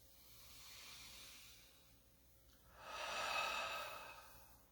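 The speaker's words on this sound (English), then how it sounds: "Take a deep breath." One slow deep breath: a soft airy inhale followed by a longer, louder exhale, close and quiet with no talk.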